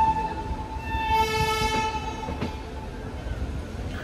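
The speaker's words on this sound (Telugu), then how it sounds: "ఇదిగో ఫస్ట్ నా ట్రైన్ ఏమో వ్యాప్ 4 అనమాట" A red WAP-4 electric locomotive hauling a passenger train passes at an Indian station, a rumbling rail roar with a sustained tonal horn-like whine and a sharp clank, fairly close.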